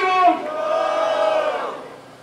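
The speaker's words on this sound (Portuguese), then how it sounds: "Quem acha que meu mano Kael merece o primeiro round, faz barulho." A crowd at a rap battle shouts and cheers together in one sustained, loud burst of voices that rises at the start and slowly fades over a couple of seconds.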